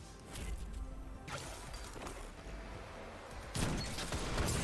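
In the online shooter game Destiny, a grenade launcher fires and explodes: a few sharp, loud blasts with whooshing impacts, one near the start, one in the middle and a heavier burst toward the end, under quieter game noise.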